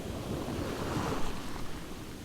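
Ocean surf washing up a Southern California beach, a steady loud rush of breaking water with wind buffeting the microphone throughout, no voices.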